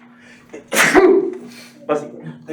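A single sharp sneeze bursts out in a math classroom lecture, loud and close, preceded by a short intake of breath and followed by brief talk.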